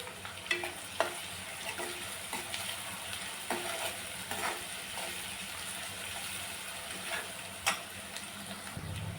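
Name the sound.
sautéing chopped onion with curry leaves in a pan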